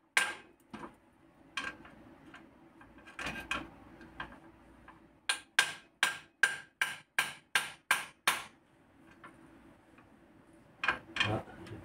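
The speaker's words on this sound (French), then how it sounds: "Je vais réessayer au marteau en tapant sur le pic-biche." Hammer striking a steel pry bar while removing the oil pan of a Peugeot 206 CC 2.0 16V, sharp metallic taps alone, first scattered, then a fast even run of about a dozen blows, and a few more at the close.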